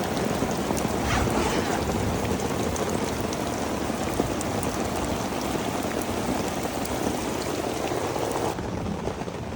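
Heavy rain storm pounding on the roof of a 12x12 Kodiak glamping tent, a dense, continuous roar of drops close overhead, loud and unbroken throughout with no voices.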